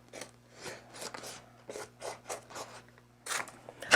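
Scissors or a blade cut along a strip of heat transfer vinyl in a string of short, crisp rasping snips. The cuts come in an uneven rhythm, faint and close, with no talking.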